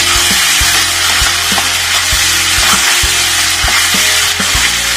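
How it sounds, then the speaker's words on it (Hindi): Kadhai paneer masala fries in a wok with a steady, loud broadband sizzle, punctuated by regular spatula scrapes and knocks against the pan, with no talking. "अच्छी तरह से मसाले को भून लेंगे।"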